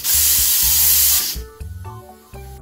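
A Tramontina Vancouver pressure cooker releases steam in a loud, steady hiss lasting over a second, then cuts off, leaving quieter kitchen clatter.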